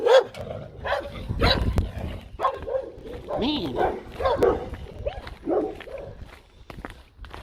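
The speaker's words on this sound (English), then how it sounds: "These dogs are going to go off." Dogs bark and yip in short bursts while someone talks over them, footsteps audible underneath.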